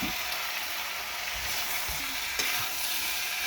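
Spiced chayote curry fries in a pan with a steady, loud hiss of oil and occasional stirring scrapes, no voices over it.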